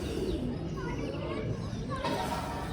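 Pigeons coo softly and repeatedly in the background while someone speaks over a steady outdoor hum.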